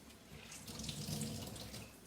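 Water runs and splashes out of drained green leeks being squeezed, a faint, steady wet trickle close by.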